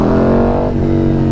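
A 2017 KTM Super Duke R motorcycle fitted with a Rottweiler Stage 5 kit runs loud and close, its engine held at a steady high rev with a brief dip in pitch midway, heard alone.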